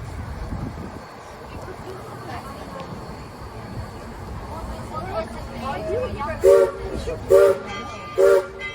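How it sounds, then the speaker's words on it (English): Steam train whistle sounding three short blasts at Silver Plume as the train departs, each blast loud and spaced about a second apart over a steady background of hissing steam and crowd chatter. "with those three blasts on the whistle, we are now departing"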